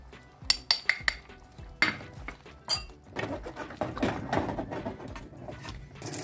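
Spoonfuls of sugar and garam masala powder go into a pot of chicken korma made with sour yogurt, heard as several sharp metal spoon clinks against the pot followed by softer stirring and scraping.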